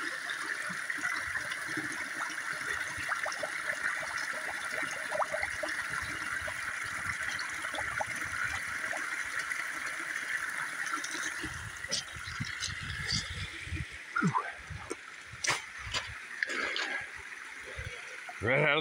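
Water trickles and flows steadily in a small woodland brook, a continuous close wash with some brief splashes and knocks toward the end.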